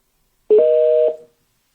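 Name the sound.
telephone dialing tones calling a radio show caller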